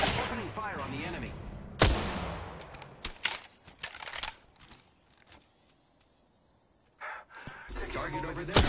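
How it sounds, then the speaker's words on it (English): Gunfire in the video game Apex Legends, several sharp shots scattered through the clip, with bursts near the start and end and quieter gaps between. "The enemy is shooting at me. Opening fire on the enemy."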